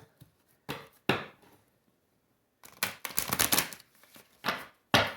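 Tarot cards riffled and shuffled in bursts: two short ruffles, a pause, then a longer run of rapid flicking and snapping, and two final sharp riffles, close and crisp with no talking.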